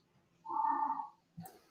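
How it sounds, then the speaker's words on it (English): A cat gives a single drawn-out meow, fairly close but soft, followed by a brief second squeak after a short pause, with no talking over it. "That's a cat."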